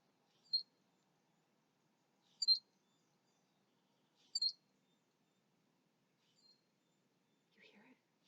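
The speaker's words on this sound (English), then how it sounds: "I've never heard a bird make that noise." An unusual bird calls outdoors, three short, high, faint chirps spaced about two seconds apart, followed by a couple of softer, lower notes, with near silence between them.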